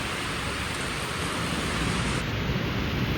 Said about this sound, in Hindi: बारिश का थोड़ा सा मजा लेते हैं।